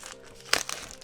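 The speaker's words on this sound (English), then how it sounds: "Take it out of its plastic bag." A DJI RC controller for the DJI Mini 3 Pro is pulled from its plastic bag, giving one brief, quiet crinkling burst partway through with faint rustles after it.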